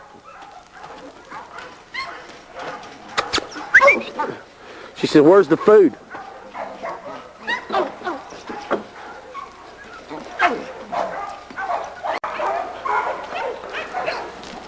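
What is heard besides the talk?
small dog Sweet Pea barking and whimpering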